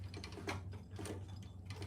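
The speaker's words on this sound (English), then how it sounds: "we're gonna sew down this short edge and across the bottom" A sewing machine stitching a fabric basket seam along a short edge, giving a faint, steady mechanical whirr with light ticking pulses, quiet and continuous with no talking.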